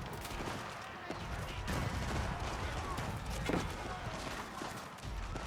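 Cannons fire in a real-time strategy video game battle, a dense, continuous barrage of booms and impacts mixed with clashing combat noise, steady and loud throughout.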